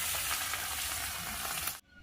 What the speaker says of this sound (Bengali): আমি এখন এক এক করে মাছগুলি ছেড়ে দেব।